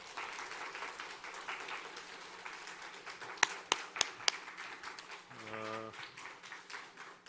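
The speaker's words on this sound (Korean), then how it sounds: "박수로 안녕하겠습니다." A church congregation applauds in a steady crowd patter, with a few sharp, loud individual claps standing out near the middle, while a voice and a brief hum of murmured talk rise toward the end.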